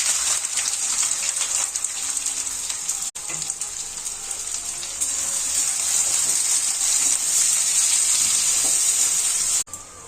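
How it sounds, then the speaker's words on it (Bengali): Chopped onions hit hot oil already spiced with bay leaf, cumin seeds and sugar, producing a loud, continuous hissing sizzle with two brief breaks. "কেটে রাখা পেঁয়াজ দেবো"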